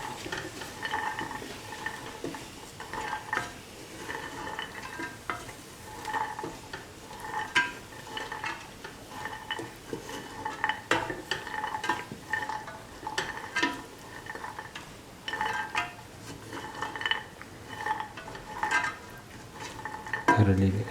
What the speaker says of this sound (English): Thoroughly mix the chickpea with the rest of the mixture. Keep on sauteing.